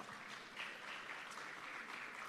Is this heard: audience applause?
yes